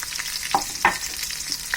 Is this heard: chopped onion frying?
yes